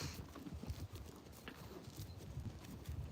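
Horse hooves clip-clop in an irregular walking rhythm during a ride outdoors, fairly faint against steady background noise, with no clear talking.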